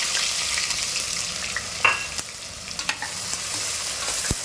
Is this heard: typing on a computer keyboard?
no